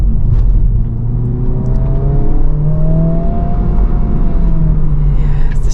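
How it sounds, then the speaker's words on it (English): A 2024 Honda Civic Type R engine accelerates hard, loud and close, its turbocharged note rising through the revs in sweeping pitch climbs with no talking. "Good little noise, not like a naturally aspirated noise or anything."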